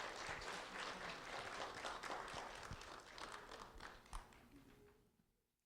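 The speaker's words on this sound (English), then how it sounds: "A round of applause for Nelson and Moses," An audience claps for two first-grade students at a public meeting, a faint, steady patter of applause that fades away toward the end.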